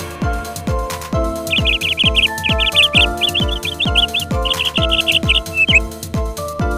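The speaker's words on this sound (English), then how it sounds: "P for parrot." Parrot-like chirping calls ring out in quick bursts over a loud, steady children's song with rhythmic plucked notes and a thumping beat, the bird sounds mid-high and layered on the music.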